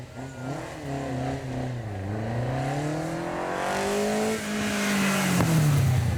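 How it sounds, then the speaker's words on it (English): A classic Vauxhall red top engine revs steadily upward at a supercar show, the pitch climbing and dipping through gear changes, loud and close with a throaty roar. "the engine in this one is energetic. It's that classic Vauxhall red top. Have a listen to this."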